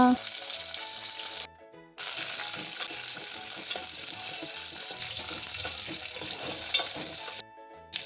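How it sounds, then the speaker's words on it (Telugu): Green chilies and garlic fry in oil in a pan while gongura chutney is being made, a close, continuous crackling sizzle with stirring clatter and a few brief breaks. "అదే గిన్నెలో ఇంత నూనె పోసి పకాయలు ఎల్లిపాయలు వేసుకోవాలి నూనెలో"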